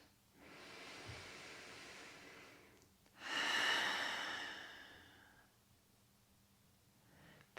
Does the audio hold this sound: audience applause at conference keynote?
no